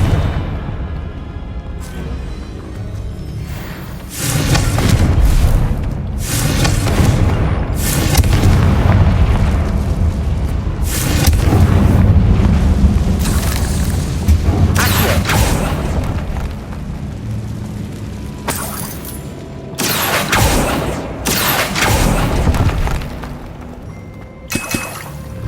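Confringo fire spells explode in the Hogwarts Legacy video game as a rapid string of loud, booming blasts and bursts, densely layered with crackling debris over about 25 seconds, with no talking.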